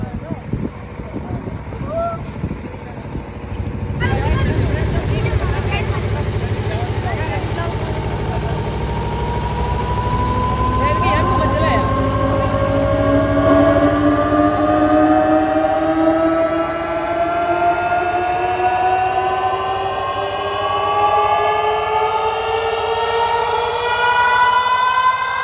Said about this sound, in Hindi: क्या आप तैयार हो अपने नए डीजे की आवाज़ सुनने के लिए?